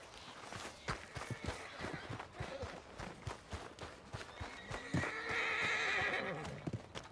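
Horse in the Red Dead Redemption 2 video game, with irregular hoof clops on the ground, then a loud drawn-out neigh and whinny that rises and falls near the end, close and clear.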